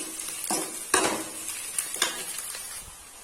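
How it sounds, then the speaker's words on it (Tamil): Curry leaves and green chillies sauté in a hot pan, a soft sizzle broken by a few sharp spatula scrapes and clinks against the metal, close up with no voices. "2 இனுக்கு கருவேப்பிலை, 2 பச்சை மிளகாய் இதையெல்லாம் கீரி அப்படி போட்டு இதையும் நல்லா வதக்கி விட்டுருங்க"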